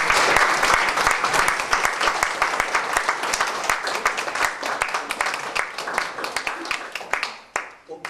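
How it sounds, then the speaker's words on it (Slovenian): An audience at a retirement home applauds a student choir, brisk clapping that starts dense and thins toward the end into scattered individual claps before stopping. "Še en aplavz za..."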